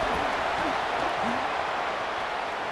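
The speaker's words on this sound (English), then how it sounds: "And how nice is it to have the home crowd going absolutely bananas?" In the EA Sports College Football video game, a Notre Dame home stadium crowd roars steadily, a dense, loud wall of cheering and applause broken only by faint voices.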